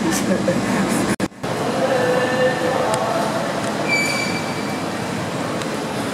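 A train passes through a station, its wheels rumbling and squealing on the rails in a steady close roar, with a brief sharp break near the start and thin high metallic squeals later.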